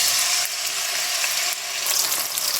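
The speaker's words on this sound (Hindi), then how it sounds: "प्याज को फ्राई करूँगी गोल्डन ब्राउन होने तक।" Roughly chopped onions fry in a large amount of hot oil, giving a steady, loud, close sizzle with dense crackling throughout and a few slight dips in intensity, with no talking.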